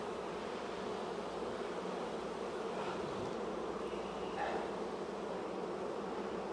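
Honeybees drone steadily inside an open hive while a queen is being replaced, a dense, continuous close-up buzz with no voices.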